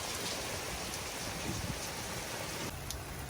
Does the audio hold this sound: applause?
no